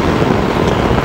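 Strong wind roars across the microphone at altitude during a paramotor flight, a dense, steady broadband rush filling the whole second with no voice.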